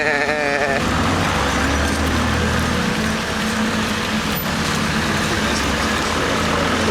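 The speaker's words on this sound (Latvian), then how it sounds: "Šitās kaut kāds kalna aitas" Mountain sheep bleat repeatedly under a constant rumble of an engine or traffic, with some background voices mixed in.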